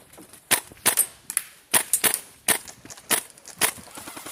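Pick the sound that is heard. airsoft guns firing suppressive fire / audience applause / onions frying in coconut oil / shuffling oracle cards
airsoft guns firing suppressive fire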